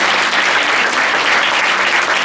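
Church congregation clapping together in steady, dense applause, loud and close, filling the space with no voices standing out.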